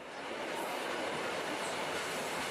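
A Flåm Railway train rumbles steadily as it emerges from a tunnel, a dense continuous roar of wheels and carriage noise heard from on board, loud and unbroken.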